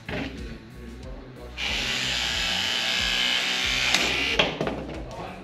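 A Hilti Nuron cordless cable tool with sharp slicing blades cuts through heavy copper and aluminium conductors, a steady close motor whine and grinding rasp lasting several seconds, ending in a few clicks after a voice.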